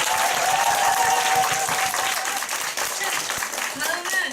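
An audience at a business group meeting claps in a dense, steady burst of applause that stays loud throughout and tapers slightly near the end, with a voice heard over it.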